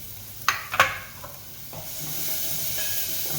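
Spring onions hit a hot pan for homemade Indian daal and rice, with a few sharp clatters followed by a steady, close sizzling hiss that keeps building.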